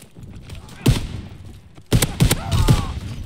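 Shotgun blasts in the video game Call of Duty WWII, a couple of loud booming shots spaced apart with a quicker cluster of firing, heard up close over background game noise.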